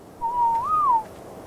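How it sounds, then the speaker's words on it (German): A single clean whistle rings out as a command in the video game ARK: Survival Evolved, a steady tone that bends up briefly and falls back before stopping, heard clearly over a faint game background. "Pfeife, alle anhalten."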